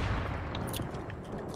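Gunfire from the video game Fortnite: several quick, sharp shots crack over a dense, noisy game background.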